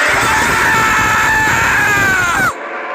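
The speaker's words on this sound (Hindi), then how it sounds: "तभी कछुए की जोर से चीखने की आवाज सुनाई पड़ती है" A turtle gives a loud, piercing scream in a dramatized story: one sustained, wavering shriek that slowly falls in pitch and then cuts off abruptly, leaving quiet background.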